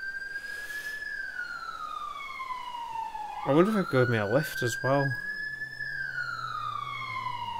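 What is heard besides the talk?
emergency vehicle sirens in video game GTA 5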